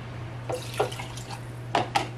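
Soup dripping from a ladle while homemade soup is spooned into jars, a few short, separate splashes and drips at close range over a steady low hum.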